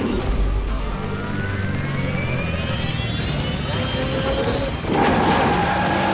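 Racing car in the mobile game Asphalt 9 speeds along with a steady engine roar, rising whines and a crash-like burst near the end, loud and continuous with no talk over it.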